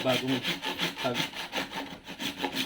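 A sharp handsaw cuts through miracle fruit to split it open, making a steady rhythmic rasp of back-and-forth strokes, close and fairly loud, with no other sound.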